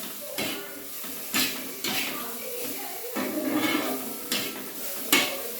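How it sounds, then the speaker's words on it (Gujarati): Mixed vegetables roasting on a flat griddle pan while a spatula scrapes and stirs them, giving repeated sharp metallic clinks and scrapes over a soft steady sizzle, with someone talking over the cooking. "આ રીતે આપણે તવીમાં બધા વેજીટેબલ શેકી લઈશું"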